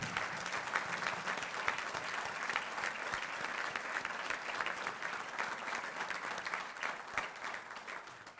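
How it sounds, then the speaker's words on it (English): An audience gathered for a land transfer ceremony breaks into sustained, dense applause that holds steady throughout, with no voices over it. "I want you to join me in an applause for all of you"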